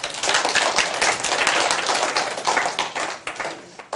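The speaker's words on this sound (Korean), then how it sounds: "박수 한번 쳐주세요." A lecture-room audience at a design class claps in a dense, steady burst of applause lasting a few seconds, close and fairly loud, with no voices over it.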